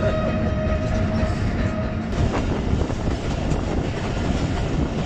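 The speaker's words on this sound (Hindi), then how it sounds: "इस वक्त ट्रेन बोस्तान जंक्शन के बाहर पहुंच रही है" A passenger train on the Quetta to Chaman line runs steadily near Bostan Junction, its wheels rumbling and clattering loud and close throughout with no talk.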